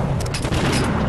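A loud, dense explosion from the Nintendo DS game Super Control Mecha MG fills the whole moment with a sustained booming rumble and crackle, alone without speech.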